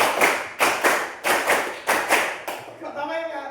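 A class claps together in rhythm during a physics lesson on measurement, sharp loud group claps in uneven patterned bursts, with a short voice at the end.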